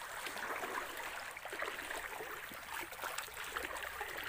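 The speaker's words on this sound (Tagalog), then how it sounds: "Dito naman banayad ng tubig." Gently flowing water at a beach on Crystal Island, a soft, steady wash and trickle that holds even throughout with no voices.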